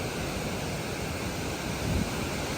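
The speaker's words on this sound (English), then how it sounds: "definitely, probably the best waterfall, biggest waterfall we've seen so far" Steady, broad rushing roar of a waterfall below a hydro plant, heard close and constant with no breaks.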